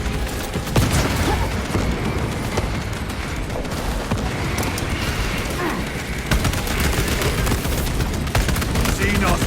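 Dense bolter fire in Warhammer 40000: Space Marine 2 pounds away in rapid bursts, mixed with explosions and combat noise, loud and continuous, with voices calling out over the battle.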